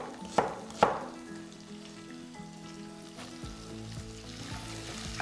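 Methi malai matar frying on a high flame, a steady close sizzle with a couple of sharp clatters of stirring near the start.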